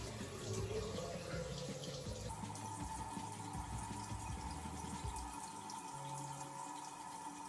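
Warm water running steadily from a tap into a sink during a morning skincare routine, a continuous close splashing wash with faint background sounds.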